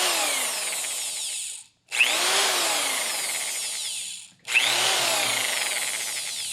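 A cheap Hyper Tough corded drill spinning up with a rising whine, running at a steady high-pitched buzz, cutting off briefly, then winding up again and running on, loud and close with no talking.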